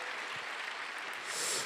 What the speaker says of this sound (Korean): 우리 오늘 함께 우리 한번 박수를 격려할까요?